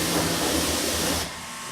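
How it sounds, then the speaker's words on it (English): Water sprays steadily over a screen-printing screen, rinsing unexposed emulsion away in a loud continuous hiss that cuts off sharply near the end, leaving a quieter background. "You can see there how the emulsion is just rinsing right off where it was unexposed."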